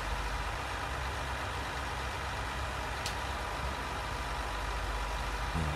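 Steady, low tractor engine drone in Farming Simulator 19, an idling hum that holds evenly throughout with no talk over it.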